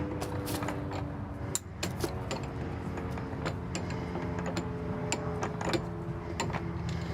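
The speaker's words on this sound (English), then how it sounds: "You're going to put your lug wrench in here, and you're going to loosen these up." A lug wrench loosens the spare tire hook bolts on a 2023 Winnebago Revel 44E, giving a series of close metallic ratcheting clicks and ticks over a quiet background.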